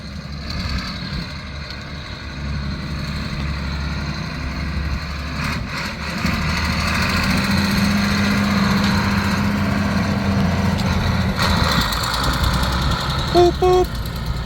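A John Deere 8640 tractor engine runs steadily nearby, a continuous low rumble that grows louder partway through, with a brief faint voice near the end.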